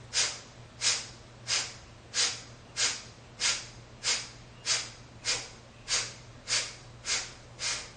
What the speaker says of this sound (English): We'll finish with some Kapalabhati. Forceful exhales.